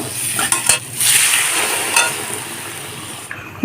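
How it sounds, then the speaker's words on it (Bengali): Spice paste with coriander powder being stirred and sautéed in a pan for a fish curry, a loud close sizzle with scraping spatula strokes and a couple of sharp clinks against the metal. "এখন এটাকে দিয়ে ভালো করে কষে নেব মশলাটার কষা"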